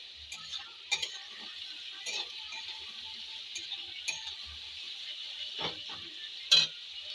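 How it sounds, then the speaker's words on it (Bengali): Okra fries in a pan with a soft continuous sizzle, punctuated by several sharp clicks and scrapes of a utensil stirring against the pan. "এদিকে ভেন্ডি ভাজা হচ্ছে।"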